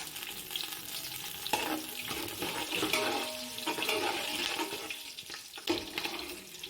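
Spices roast in hot oil for chicken biryani, giving a continuous close crackling sizzle with occasional scraping stirs and small bursts, with no talk heard.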